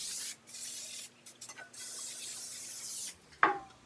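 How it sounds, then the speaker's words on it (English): Cooking oil sprays into a baking pan in a home kitchen: several close, short hissing bursts separated by pauses, ending with a light clatter of the can or pan. "I'm going to spray"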